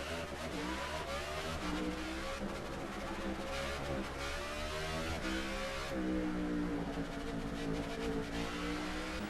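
A stock car in a NASCAR video game at Atlanta, driven on badly worn tyres, drones with a steady engine whine that rises and falls through gear changes and throttle, continuous and alone with no talk.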